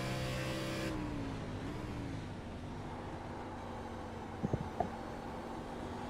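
Onboard engine of an Xfinity race car at Watkins Glen in the iRacing game, a steady droning tone that shifts pitch as it changes gear, with a few brief knocks near the end.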